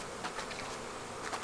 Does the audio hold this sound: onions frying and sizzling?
no